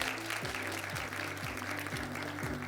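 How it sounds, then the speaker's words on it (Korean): Steady, dense applause from an audience at a district education plan briefing in Chilgok, continuous and fairly loud throughout with a faint low hum beneath. "칠곡교육의 미래를 설명해 주신 유서영 교육장님께 다시 한번 큰 박수"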